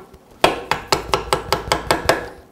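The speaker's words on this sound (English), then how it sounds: "we're going to get our regular screwdriver, tap it with a hammer till they're flat enough we can get a socket on it" A hammer taps a screwdriver to flatten lawn mower bolts, about nine sharp metallic strikes in a steady rhythm, close and clear with no talk.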